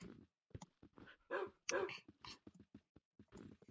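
Several dogs bark and whimper in Minecraft, short yips and bow-wows arriving in quick bursts at moderate volume, with no talk over them.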